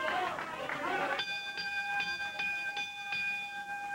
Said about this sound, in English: The bell sounds, and let's get it on.